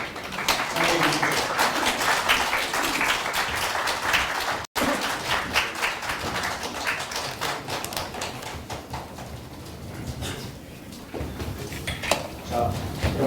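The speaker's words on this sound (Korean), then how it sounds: "뜨거운 박수로 환영해 주십시오." Warm applause welcoming the moderator and presenters at a debate forum in the National Assembly members' office building, a sustained wall of clapping lasting over ten seconds with a murmur of voices beneath.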